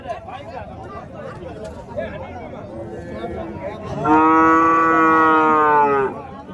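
A cow lets out a loud, drawn-out moo near the end at the Madrapalli cattle market, following a stretch of murmuring voices and ambient noise.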